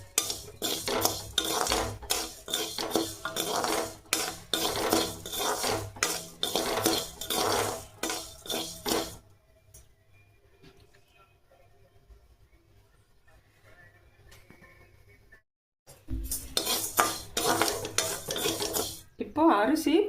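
A spoon scrapes and stirs 100 grams of raw rice as it dry-roasts in a pan for kuzhambu masala powder: brisk, close, rattling scraping, then a long quiet pause before the stirring starts again.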